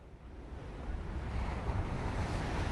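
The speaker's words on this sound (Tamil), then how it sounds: "இந்த பகுதியில் கடல் கொந்தளிப்பு ஏற்பட்டுள்ளது" Rough, churning sea waves stirred up by Cyclone Vardah off the Nagapattinam and Karaikal coast, a steady broad roar of surf with wind buffeting the microphone, building slightly louder and continuing without pause.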